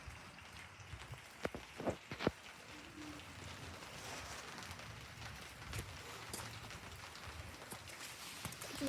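Heavy rain falls during a thunderstorm, a steady dense patter with scattered sharper drops, faint and continuous with no talk over it.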